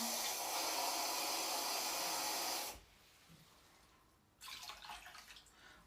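Water poured from a cup into a cooking pot on the stove, a steady splashing stream that stops, then after a short near-silent gap a second, shorter pour of water, close by with no talk.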